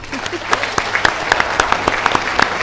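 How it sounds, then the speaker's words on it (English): Audience applause at the end of a debate, a short burst of scattered hand claps, moderately loud and a little distant, with talking over it. "You can hear the applause in the back"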